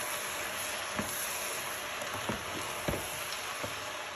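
Carrots and peas for a chicken samosa filling being stirred in a frying pan: a steady sizzle with regular soft scraping knocks from the spoon.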